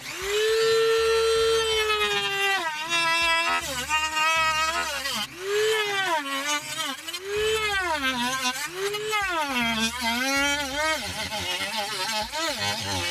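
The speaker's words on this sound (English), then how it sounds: "the cutting disc I'm using is a specific one for doing plastic, this 38mm PVC. So yeah, just gonna cut that out." A Dremel rotary tool with a plastic-specific cutting disc slices through 38mm PVC while fitting a Cobb carbon fiber air scoop on a Ford Focus RS. Its loud, continuous high whine dips and recovers in pitch as the disc bites under load.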